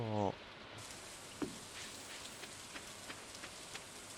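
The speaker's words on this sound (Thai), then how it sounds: "ได้ยินเสียงฝนมีฝนตกแน่เลย" Rain falling on a farm in the video game Stardew Valley, a steady soft hiss with scattered faint droplet ticks, alone after a brief opening tone.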